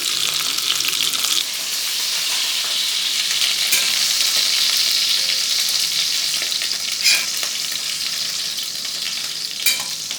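Beef browning in tallow in a pan for Hungarian goulash, a loud, steady sizzle and crackle close by, with a few sharper stirring scrapes breaking through now and then.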